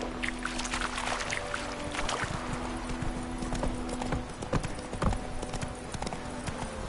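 Roach the horse trotting in a video game, hooves clip-clopping in a steady rhythm at close range over ambient background music, with no talk.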